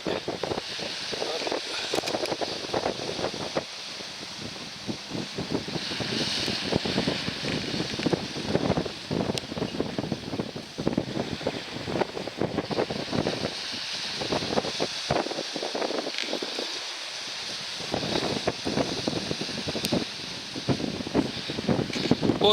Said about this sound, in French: désolé s'il y a du vent, hein. Mais bon, voilà, la mer, c'est ça.